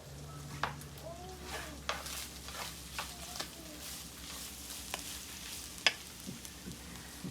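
Chile sizzling and frying in a clay cazuela, a steady crackling hiss with occasional stirring scrapes and clicks, close and continuous with no talk.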